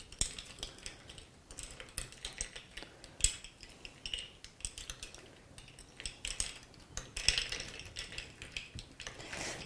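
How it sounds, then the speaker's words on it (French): A spoon stirring a caipirinha with cachaça in a glass, producing repeated clinking and scraping taps in an uneven rhythm, close and fairly crisp, with no talking. "Maintenant, à l'aide de ma cuillère, nous allons pouvoir mélanger"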